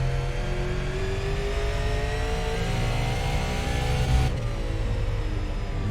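A super late model race car engine in the iRacing video game at Myrtle Beach Speedway drones loudly and continuously, its harmonic pitch rising steadily under acceleration, then dropping abruptly near the end as the revs shift.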